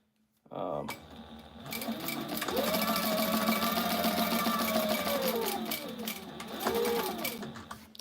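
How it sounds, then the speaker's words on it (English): A sewing machine runs in one long continuous stretch, sewing two tactical bag parts at the same time, with a steady motor whine and a brief slowdown near the end, close and clear. "so you sew 2 of them at the same time"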